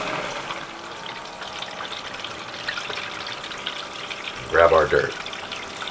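A gold sluice runs with water washing through wetted paydirt outdoors, a steady rushing flow throughout with a louder gush of water near the end as talk continues over it.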